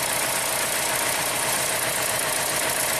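A Chevrolet Cruze engine idles with cylinder number 1 dropped in a cylinder test, a steady, fairly loud broadband running noise with slight uneven pulsing and no voices.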